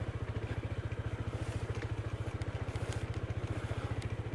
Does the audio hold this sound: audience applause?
no